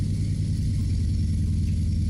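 A Mack truck's V8 engine rumbles steadily in American Truck Simulator, a continuous low mid-pitched drone at cruising load with no speech over it.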